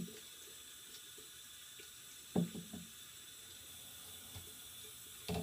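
Tap water runs into a sink while soap is rinsed off a Breyer model horse, a faint steady trickle with a couple of brief splashes and knocks midway.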